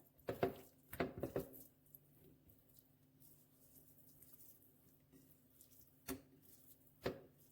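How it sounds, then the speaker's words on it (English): Seasoning patted by hand onto salmon fillets for lemon garlic pan-seared salmon, a few soft close-up dabs and slaps in quick clusters at the start, then sparse single pats over a quiet room. "You're just patting it in and twist and turn, because you want to make sure it's fully seasoned well"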